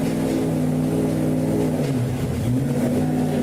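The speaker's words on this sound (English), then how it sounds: "He is still revving the engine, still turning those tires" A car engine is held at steady high revs close by, droning without a break as the pitch wavers and dips briefly midway, suggesting tires spinning under load.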